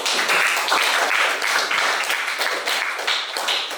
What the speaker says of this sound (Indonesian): Sekarang tepuk tangan untuk jawaban daripada Yunus